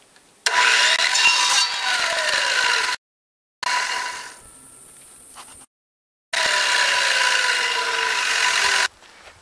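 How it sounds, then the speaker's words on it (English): A hand saw cuts wooden trim for a garden trellis in three separate bursts, each a loud, close rasping stroke sequence, separated by short silences, with no speech. "I need to start cutting the trim."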